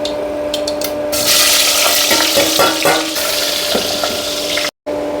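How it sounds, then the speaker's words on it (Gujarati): Mustard seeds and cumin hit hot oil in a home kitchen, bursting into a loud, close crackling sizzle with popping seeds and spatter that holds steady for several seconds before a brief cut. "તેલ થેગું રાયું ને જીરું પધરાવી દઈએ"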